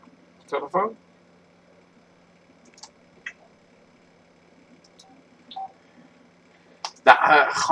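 A phone is dialed in The Sims 4, heard as a few soft, sparse beeps and clicks over a quiet background, with brief bursts of voice near the start and at the end.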